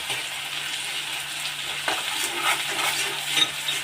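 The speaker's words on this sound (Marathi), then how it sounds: "आपले अद्रक आणि लसूण चांगला फ्राय झालेला आहे" Ginger and garlic paste fries in a pan for a restaurant-style prawn fry, a steady close sizzle with occasional spoon stirs and light scrapes against the pan.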